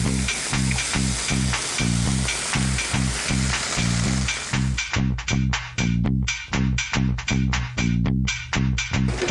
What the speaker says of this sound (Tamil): இந்த முட்டையை உடச்சி இதில் ஊற்றிடலாம்.